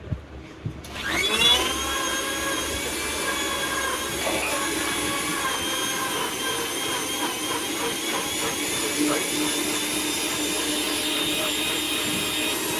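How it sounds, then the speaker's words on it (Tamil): Kitchen mixer grinder whirring loudly as it grinds masala with a handful of coriander leaves, starting abruptly then holding a steady high-pitched motor whine to the end. "மசாலா அரைச்சாச்சு."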